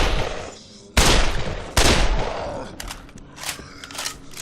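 Gunfire in the zombie video game Dead Island, with two sharp, loud shots about a second apart, each trailing off into a ringing decay, followed by quieter clattering hits.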